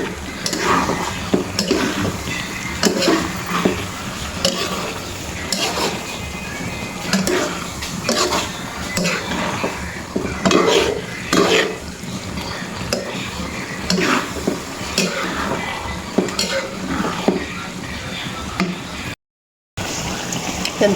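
Ingredients for sinantol, a Filipino dish, being stirred in a cooking pot, with steady scraping and wet churning sounds over a faint sizzle that continue for the whole stretch, close by and with no talk.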